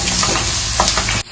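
Onions frying in a pan for a prawn tawa fry, a loud, close, hissing sizzle with light stirring scrapes that cuts off abruptly at the end.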